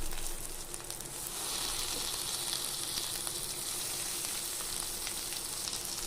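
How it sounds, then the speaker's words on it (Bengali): Fish paturi wrapped in bottle-gourd leaves sizzles in hot mustard oil in a kadai on a gas flame, a steady close-up crackling hiss that runs evenly throughout without speech. "গরম হয়ে যাওয়া তেলে আমি দিয়ে দিচ্ছি পাতুরিগুলো"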